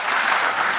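A brief, dense burst of audience clapping at a business seminar in Varanasi, steady and fairly loud for under a second.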